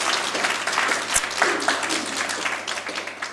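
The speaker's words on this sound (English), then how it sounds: "she deserves a round of applause." Applause from the audience at an academic award ceremony honoring a distinguished international scholar, a steady wash of clapping with a brief sharp knock partway through and faint voices mixed in.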